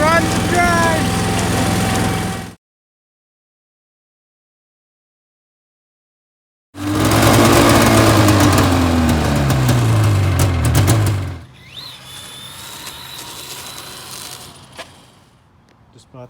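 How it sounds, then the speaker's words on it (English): A Yardman self-propelled push mower's small gasoline engine runs loud and close for a few seconds, cutting out abruptly, then a quieter mechanical hum follows; a voice is briefly heard near the start. "Just bought this Yardman self-propelled push mower"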